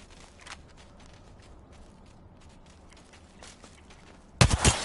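A short, loud burst of video game gunfire suddenly breaks a fairly quiet stretch near the end, after a few faint clicks and taps earlier on.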